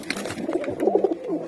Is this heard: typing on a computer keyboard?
no